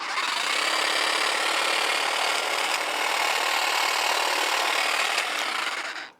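A 20V cordless WORKPROX pole hedge trimmer buzzes through a branch, a bright, steady rasping cut that holds for several seconds before stopping abruptly.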